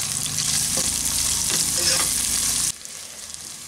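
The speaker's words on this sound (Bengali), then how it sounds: "পেঁয়াজটাকে হালকা করে ফ্রাই করে নিচ্ছি।" Chopped onion frying lightly in a pan, a loud close sizzle with stirring scrapes that cuts off abruptly near the end.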